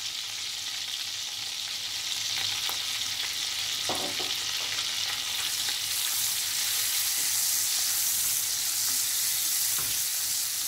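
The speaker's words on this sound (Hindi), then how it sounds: "इनको 1 मिनट के लिए सोते करेंगे" Curry leaves, ginger and green chillies sizzle and fry in a pan of hot butter, a steady close crackle with a few louder spits as they are stirred, and no voices.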